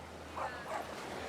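A dog on an autumn beach gives two short, soft yips or whimpering barks close by over a quiet outdoor background.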